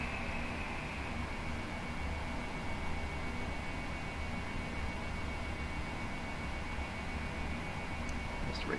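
Jet airliner engines on a Boeing 777 in the PMDG flight simulator roar in a steady, broad whoosh with a faint high whine, holding fairly constant throughout without speech.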